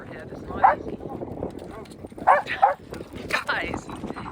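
Three dogs on a boat give sharp, scattered barks and yips in a few bursts, fairly close but not loud, with a person talking among them.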